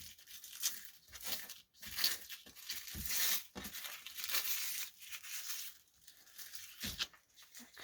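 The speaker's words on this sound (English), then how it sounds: "And then you just tear the rest off." Paper rips in short, uneven tugs for a recycled junk journal page, close crinkling and tearing strokes coming in irregular bursts with brief pauses between pulls.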